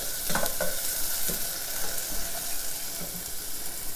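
Onions sweating in a hot pan for turmeric rice give a steady, close frying sizzle with a few soft stirring knocks and scrapes, the heat running slightly too high.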